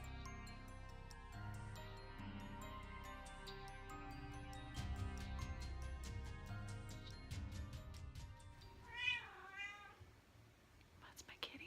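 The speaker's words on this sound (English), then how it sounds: "That's my kitty." A pet cat gives a faint meow or two near the end, quiet beneath soft background music.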